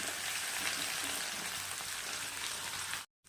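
Stone-pounded spice paste and green chilli sauté in hot oil for a Maharashtrian tur bean curry, giving a close, steady hiss and crackle that cuts off abruptly at the end.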